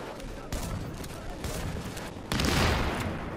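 Gunfire from the video game Tom Clancy's The Division, with dense bursts of rapid shots that grow louder and heavier toward the end.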